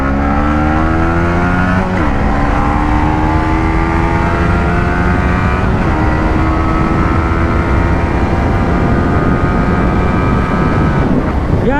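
A Yamaha MT-15 motorcycle fitted with Reise TraceR tyres is ridden on the road, its engine note loud and close and rising smoothly as it accelerates, over steady wind and road roar.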